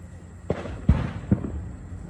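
Fireworks explode in three distinct deep booms about half a second apart, loud and fairly close, each followed by a brief rumble, with no talking over them.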